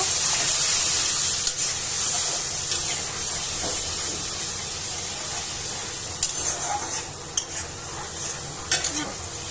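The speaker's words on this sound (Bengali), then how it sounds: "মশলাটা আস্তে আস্তে কষানো হোক।" Spice paste of ginger, garlic, turmeric, chili powder and salt sizzles as it is fried with a little water for a chicken feet and skin dish, a steady hiss with occasional stirring scrapes and clinks, close and alone.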